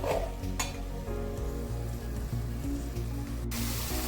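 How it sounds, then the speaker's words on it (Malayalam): Tomato puree fries in oil in a pan while cooking a dry fish curry, a steady close sizzle with occasional stirring scrapes and clinks, and no voices. "അതിലേക്ക് നമ്മൾ എടുത്തു വെച്ചിരുന്ന തക്കാളിയുടെ പ്യൂരി, ആ ജ്യൂസ് നല്ലോണം ഫ്രൈ ചെയ്ത് എടുക്കാം."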